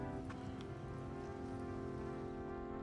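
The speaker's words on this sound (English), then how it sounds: "It's raining. You feel the rain?" Dense, steady rainfall patters outdoors during a dog walk on a wet December day, close and even throughout with no voices.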